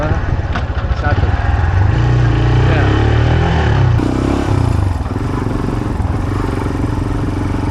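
A CF Moto Papio 125cc six-speed cafe-racer-style motorcycle running loud and close, its engine note droning steadily with pitch shifts as gears change, then settling into a rougher, lower tone.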